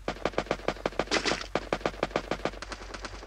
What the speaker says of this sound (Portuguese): O cara deu um bocado de tiro